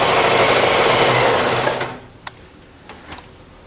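A sewing machine runs with a fast, steady mechanical whir for about two seconds, then stops, leaving a few faint clicks and taps of handling.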